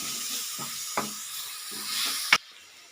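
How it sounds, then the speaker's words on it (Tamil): Tomatoes saute in a pan for palak aloo subji, a soft continuous sizzle under a few spoon scrapes and two sharp clinks against the pan. "நம்ம தக்காளி கொஞ்சம் வதங்கிட்டேங்க"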